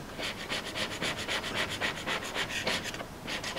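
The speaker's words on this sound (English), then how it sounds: "I'm rubbing on some paint thinners. Well, it's actually gun cleaner, this stuff, so it's toluene and xylene mix" Rag rubbing toluene-xylene gun cleaner onto sticky adhesive residue, a steady rhythmic back-and-forth scrubbing hiss, close and moderately loud, with no talking.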